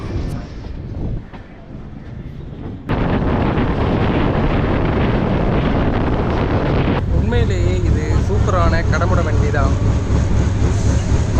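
A Chennai to Coimbatore express train runs at speed, a loud, continuous rumble with wind buffeting that surges in strength after a quieter start, and a voice speaks over it in the later part.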